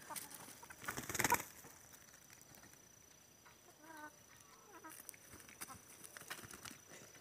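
A young chicken held by hand gives a few faint, brief clucks and chirps that come and go over a quiet background, with a short loud rustle near the start.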